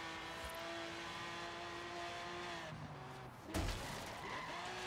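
Car skidding and spinning out in the racing video game Forza Horizon 3, a steady engine drone with tyre noise running throughout, then a sudden loud impact-like burst near the end before the engine carries on.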